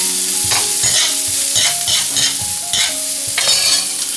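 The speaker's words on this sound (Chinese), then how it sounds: "葱姜蒜爆香" Scallion, ginger and garlic stir-fried in a little hot oil, sizzling steadily throughout with repeated scraping strokes of a spatula against the wok, close and loud with no talking.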